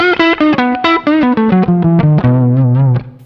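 Electric guitar played through a portable backup rig with reverb, a loud, fast descending run of distinct picked notes ending in a ringing low note, with no talking.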